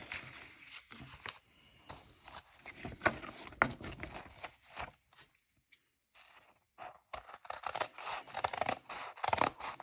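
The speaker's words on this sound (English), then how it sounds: "Let's see if my scissors will cut through all 10 pieces." Scissors make repeated crunching snips as they cut through a thick stack of ten sheets of paper, with short pauses between cuts and a quiet gap partway through.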